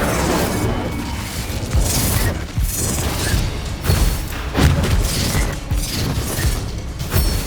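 Incendio fire spells are cast during combat in the video game Hogwarts Legacy, with loud, dense bursts of booming, thudding and crashing effects that pulse repeatedly and continuously throughout.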